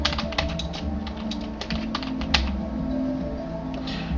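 Typing on a computer keyboard during a Windows XP installation: rapid, uneven key clicks heard close up, with no talking.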